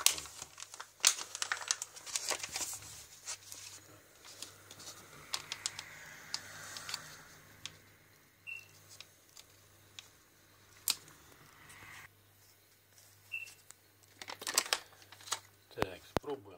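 Packaging of an Aldi duck and orange pâté is opened by hand, making soft crinkling and rustling with scattered light clicks and taps in a quiet room, busiest at the start and fading into sparse handling noises.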